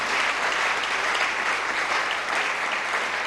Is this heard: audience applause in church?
yes